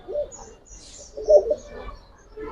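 Young Giribaz pigeons giving soft, low coos in short bursts, a louder one near the middle, close by and otherwise quiet with no talk.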